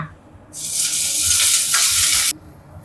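Garlic and tomato sautéing in a pan let out a loud, bright sizzle that flares up suddenly, holds strongly for nearly two seconds, then cuts off, leaving a quiet background.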